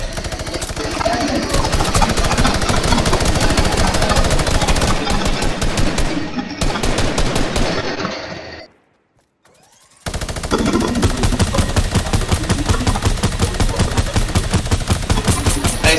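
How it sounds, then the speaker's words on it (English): Rapid automatic gunfire in Fortnite, a loud, dense stream of shots that cuts off briefly, then resumes just as fierce and sustained. "Stop shooting, bro."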